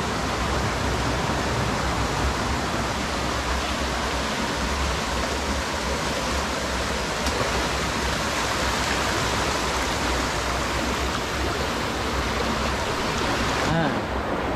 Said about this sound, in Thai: ตอนนี้ก็น้ำทะลักข้างฝายแตกนะฮะ